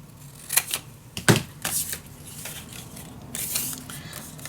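Scissors snipping through paper while trimming a piece to size for a cozy winter mini album, a few short crisp cuts close by with quiet pauses between.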